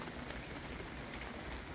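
Steady rain falls outdoors among fruiting trees, a dense even hiss with no breaks, moderately quiet and continuous throughout.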